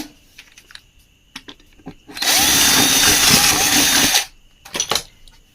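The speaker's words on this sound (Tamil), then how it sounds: "கொஞ்சம் நம்ம ட்ரில்லை வந்து உலட்டிக்கலாம்" A power drill whirs steadily for about two seconds between scattered clicks and knocks, close by and fairly loud, while replacing the bearing of a Sowbhagya tabletop wet grinder.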